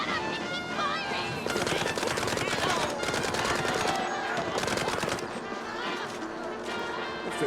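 Gunfire in the video game System Shock 2, rapid bursts of automatic shots layered with squawking creature cries and other game effects, with talk mixed in.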